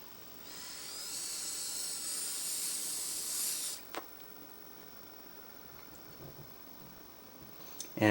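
A Krave disposable electronic cigarette gives a steady airy hiss for about three seconds as a first primer puff is drawn, ending abruptly, followed by faint room quiet with a few small clicks.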